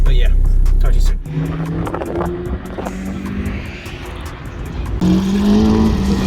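A Caterham sports car speeds past at an autocross event, its engine loud and close with a rising whine and revs, as people talk nearby.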